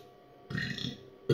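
A short, close belch after drinking beer, a low rumbling burp followed by a brief second gulp-like burst.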